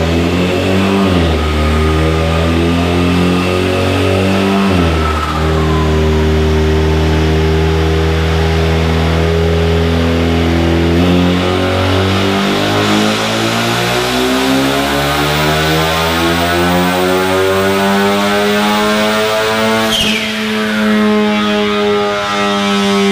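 EcoBoost Mustang fitted with a drop-in turbo, running on 93 octane, roars loudly through a sustained dyno pull, its engine note climbing steadily in pitch with a brief dip near the start, then easing off with a whoosh at the end, no talk.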